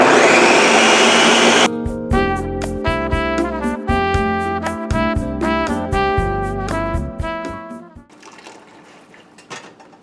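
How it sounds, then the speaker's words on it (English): A kitchen blender whirs loudly through a batch of tomatoes and herbs with some stock, its motor pulsing in steady bursts before cutting off, leaving a quieter rattle at the end. "I'm going to blend the tomatoes and the herbs."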